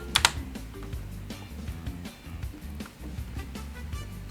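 Keys clatter in quick, uneven bursts on a computer keyboard during typing, with a few sharper presses such as the enter key standing out at the start; close and moderately loud, no talking.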